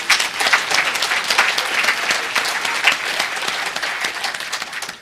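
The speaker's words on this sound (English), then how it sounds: "Give yourselves a round of applause." A room of conference attendees at a memory-training session claps together, bright rapid applause that stays loud and even for several seconds without any talking.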